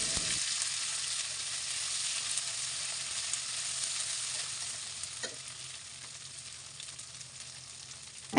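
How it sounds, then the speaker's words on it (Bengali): Onions frying in a pan with turmeric paste and ground spices, giving a steady, close sizzle throughout with occasional stirring knocks and no voices. "পেঁয়াজগুলোকে এখন আমি এই মশলাগুলোর সাথে একদম লাল লাল করে ভেজে নেব"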